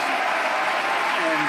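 Crowd applause and cheering at the SpaceX Inspiration 4 launch, a steady wash of clapping and excited voices heard from a distance, continuous and fairly loud for the whole moment.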